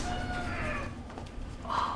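At a cat rescue clinic, a cat meows a couple of times at moderate distance, the calls rising faintly over room noise and a low murmur of background activity.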